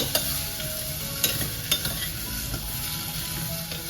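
Cut vegetables fry in ghee for veg ghee biryani, a close steady sizzle under busy stirring, with several distinct scrapes and clinks of a spoon against the pot and no speech.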